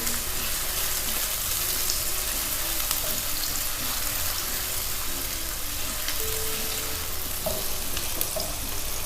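Onions frying to light golden brown in oil for a royal Murgh Darbari chicken dish, giving an even, steady sizzle close by with a few faint clicks and no talking.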